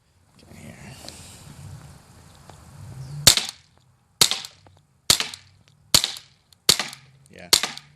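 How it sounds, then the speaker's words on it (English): A CZ 75 P-07 pistol fires six sharp shots, spaced under a second apart, loud and close at an outdoor range, after a few seconds of quiet rustling. "I accidentally pulled the trigger twice before it fired, and so it shot 2 on the last round."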